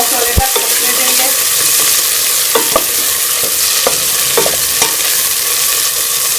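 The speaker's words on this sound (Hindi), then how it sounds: "इसमें टमाटर शामिल कर लेंगे और टमाटरों को जो है वो सॉफ्ट होने तक पकने देंगे।" Tomatoes fry in a pot for beef korma, giving a steady loud sizzle broken by occasional scraping clinks of stirring.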